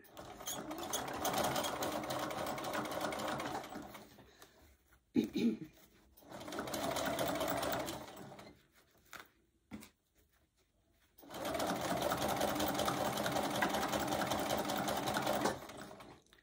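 A sewing machine stitches a small quilted mug rug in steady motorized bursts, a long run, a short one, a pause with a few clicks, then another long run, fairly quiet and close with no talking.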